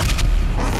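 Heavy booming gunfire in Doom Eternal, a couple of deep, loud blasts blending into a continuous low rumble over a short stretch.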